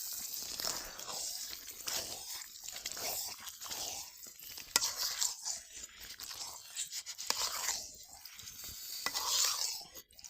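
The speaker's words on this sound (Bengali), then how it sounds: "তো ভালো করে এখন নাড়াচাড়া দিয়ে নিতেছি, যাতে নিচে দিয়ে না ধরে যায়।" Taro and red lentils being stirred in a pan of spices, giving a steady run of scraping, crunching stir strokes with a soft sizzle underneath, close and fairly loud throughout with no talking.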